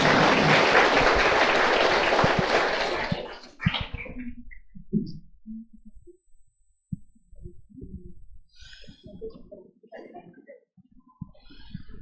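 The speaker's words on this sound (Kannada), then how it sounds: "ಎಲ್ಲರೂ ಜೋರಾಗಿ ಚಪ್ಪಾಳೆ ಆಗ್ತಾ" Loud, dense applause from an audience at a Shiva Jayanthi celebration in a hall, lasting about three seconds before breaking off into scattered claps, shuffling and quiet room noise.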